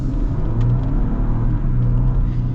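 A 2025 Ford Ranger midsize pickup truck with a 2.7L V6 and 10-speed transmission accelerates, heard from inside as a steady, loud, smooth low engine rumble and drone with no talk.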